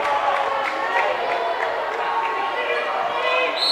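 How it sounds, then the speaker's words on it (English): A crowd at a high school boys basketball game, Lexington at West Holmes, roars and cheers on the Knights continuously, with sneaker squeaks and ball bounces faintly audible beneath the noise. "Crowd encouraging the Knights to go score."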